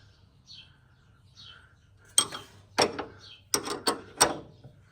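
A ratchet tightens the steering dampener bolt on a VW Super Beetle, producing a handful of sharp, close clicking strokes after faint chirping in the background.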